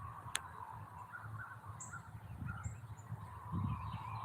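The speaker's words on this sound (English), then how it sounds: "you can hear the birds chirping" Faint, distant bird calls chirp intermittently over a steady low background hum.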